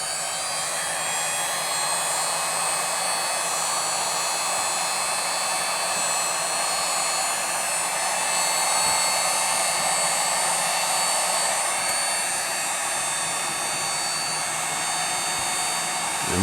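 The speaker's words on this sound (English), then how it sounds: "I'm gonna run my heat gun on low." A heat gun set to low blows steadily while preheating the engine block of an RC model, giving a constant, even airy whir with no breaks from start to finish.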